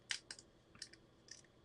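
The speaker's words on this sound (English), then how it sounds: "Let me trim it a little bit" A few quick scissor snips trim a piece for a Lego Lamborghini Countach build: three or four short, crisp clusters, close and fairly quiet, with no talking.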